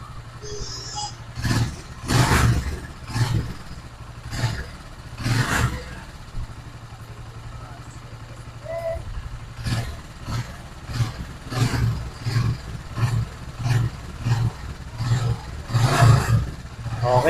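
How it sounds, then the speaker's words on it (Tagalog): A motorcycle engine converted to drive a generator revs in a steady series of short bursts, one after another, at close range in a workshop-like setting. "Tapos, try mong revolution yung motor natin."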